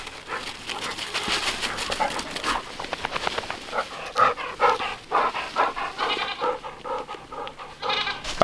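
Goats spilling out of their pen in the evening, bleating loudly and repeatedly near at hand with panting and scuffling between calls, a lively overlapping jumble of farm-animal voices.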